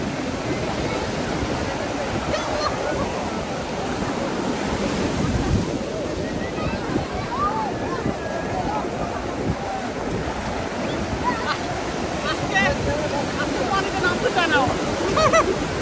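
Surf rolling onto Cox's Bazar beach at high tide, a steady broadband roar of waves with wind buffeting the microphone, loud and continuous throughout, with faint voices mixed in.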